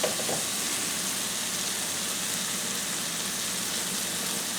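Mushrooms sizzle and get tossed on a Weber One Touch kettle grill, producing a constant close, dense frying hiss from start to finish with a faint clatter at the very beginning and no voices.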